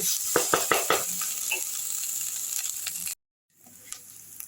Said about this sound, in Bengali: এই সমস্ত ধনে জিরে লঙ্কা দিয়ে আমি আরেকটু কষে নিচ্ছি